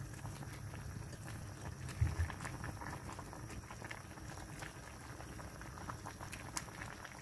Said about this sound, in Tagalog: kumukulo na po